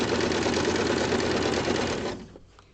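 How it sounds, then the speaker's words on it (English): A sewing machine back stitches layers of fabric for a pocket, its steady rapid needle chatter running close and alone before it slows and stops near the end. "Back stitching and going down the next row."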